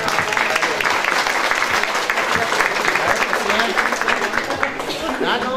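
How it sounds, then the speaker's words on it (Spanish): A crowd gives a loud, sustained applause for kindergarten children at a school's civic plaza, with a voice speaking over the clapping throughout. "Despidamos a los pequeños con un fuerte aplauso."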